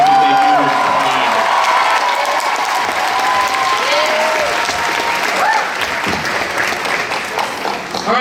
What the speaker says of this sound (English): if you guys could give them a big round of applause for all the hard work that